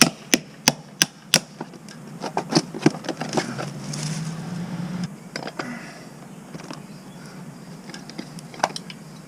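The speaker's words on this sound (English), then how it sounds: "I'm trying to chisel this hole up in the back here so the actual bib pitches outside like it should" Sharp metal-on-masonry strikes from a hammer and chisel cut into a wall for a frost-proof hose bib, a fast burst of loud blows at first, then scattered taps and scraping.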